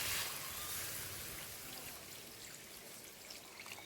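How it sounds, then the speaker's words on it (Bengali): Water pours into a cooking pot of spiced curry masala, a steady broadband trickling gush that is loud at first and slowly eases, heard alone without talk. "এবার দিয়ে দিচ্ছি জল"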